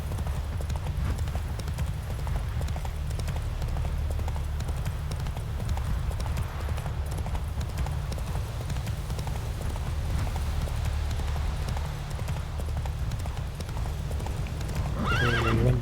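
Horse hooves clip-clopping steadily at a fast gallop in The Witcher 3 video game, continuous and fairly loud over game ambience, with occasional whinnies and no speech.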